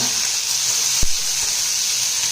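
Onion goes into a pan of golden-fried ginger and garlic over a medium flame: a loud, steady sizzle with one soft thud partway through, and no talk.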